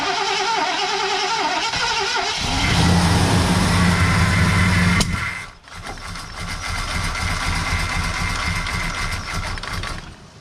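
Rover P6 rally car engine cranking on choke, a loud steady churning whir that rises in pitch midway, cuts off abruptly, then resumes for another long crank without catching.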